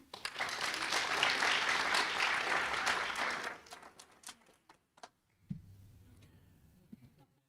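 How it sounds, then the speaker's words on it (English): Applause from the audience at a graduation ceremony, a dense burst of clapping for about three and a half seconds that quickly thins to a few scattered claps and then a quiet room with light shuffling. "So one big applause for Shubi."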